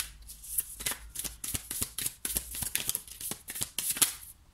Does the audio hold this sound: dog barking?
no